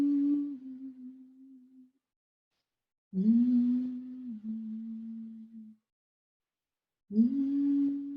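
Low, steady humming of gratitude from a spiritual elder, given in three sustained hummed phrases separated by short silences, close and clear with no other sound.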